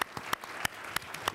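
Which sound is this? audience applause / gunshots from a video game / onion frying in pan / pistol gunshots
audience applause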